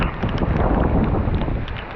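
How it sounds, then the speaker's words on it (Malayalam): Strong wind batters a breakwater, roaring loud and continuous with heavy buffeting and microphone rumble, without voices. "ഭയങ്കര കാറ്റല്ലോ."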